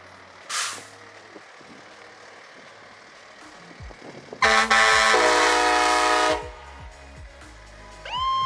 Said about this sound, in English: let's blow those air horns